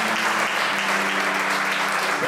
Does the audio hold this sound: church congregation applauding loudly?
yes